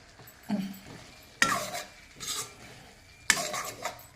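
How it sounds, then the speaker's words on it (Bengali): A spoon stirs a tomato fish curry with fresh coriander in a pan, giving three or four separate scraping, sizzling bursts with short pauses between them, close and clear, with no talking. "আমি এখন এর ভিতরে দিয়ে দেবো একটু ধনে পাতাটা দিয়ে আমি নাড়াচাড়ে নামায় নেব"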